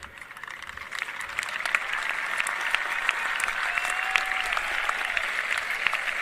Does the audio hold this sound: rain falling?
no